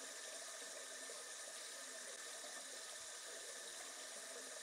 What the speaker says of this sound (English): We're just gonna listen to it wasting water for a little bit here.